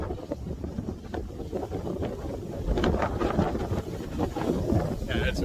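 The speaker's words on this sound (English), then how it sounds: "Yeah, it's really windy." Strong wind buffets a winter campsite in sub-zero cold at a state park, a steady roaring rush with gusts that swell louder toward the end, close to the microphone.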